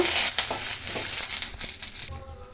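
Curry leaves sizzling and crackling in hot oil in a pan, a steady close-up frying hiss with small pops, alone without talk.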